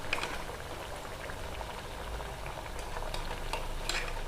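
Onion bajji fry in a pan of oil with a steady, close bubbling crackle and faint scattered pops throughout, with no talking.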